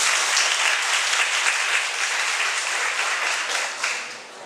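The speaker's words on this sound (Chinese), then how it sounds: "那我们现在就热烈掌声欢迎徐老师。" An audience at a literary festival lecture applauds warmly to welcome a speaker, dense steady clapping that fills the room before tapering slightly at the end.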